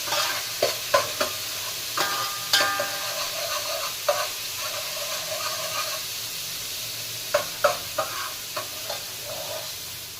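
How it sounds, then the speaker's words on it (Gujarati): Garlic and ginger sauté in hot oil in a pan (kadai), giving a steady close sizzle with a few sharp spoon clinks and stirring scrapes scattered through. "આપણે લગડીમાં તેલ મૂકી અને લસણ આદું સોતરશું."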